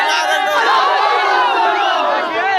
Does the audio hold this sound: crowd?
yes